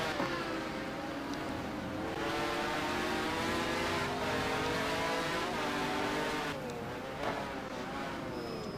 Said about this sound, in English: Thought I heard that Wyra motor coming in behind there.